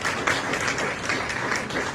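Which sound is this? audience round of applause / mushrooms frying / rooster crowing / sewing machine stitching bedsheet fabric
audience round of applause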